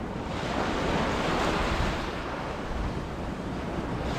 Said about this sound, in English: you can do a little meditation to the sound of the ocean